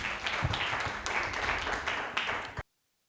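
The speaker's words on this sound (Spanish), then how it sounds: "Dale fuertes palmas de alabanza a Jesús." Church congregation clapping in praise during a sermon, a run of loose, uneven hand claps with a few sharper individual claps, moderately near, ending abruptly into silence.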